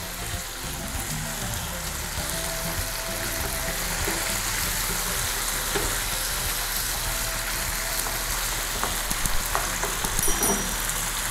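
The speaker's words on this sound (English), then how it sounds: "So we stir this." Beef strips frying with thyme and curry, stirred in a pan: a steady, dense sizzle holds throughout at moderate loudness, with faint scraping and stirring taps rising near the end.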